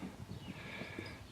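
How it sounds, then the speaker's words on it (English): A tall Clydesdale Dutch Harness Cross horse walks, its hooves making faint, soft clip-clops in a steady rhythm, quiet and alone. "Clydesdale Dutch Harness Cross."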